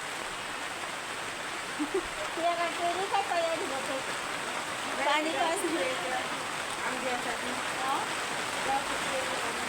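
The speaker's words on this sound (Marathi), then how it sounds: "पाणी चालू आहे" Water running steadily at home, a constant hiss like a tap or stream, with someone talking intermittently over it at moderate distance.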